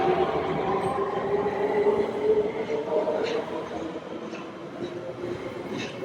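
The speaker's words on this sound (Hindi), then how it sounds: "तो ये देखो ये कुछ है हंगरी की मेट्रो।" A Budapest metro train rumbles along steadily with a constant low roar and faint high squeals, heard from inside a carriage, with muffled voices in the background.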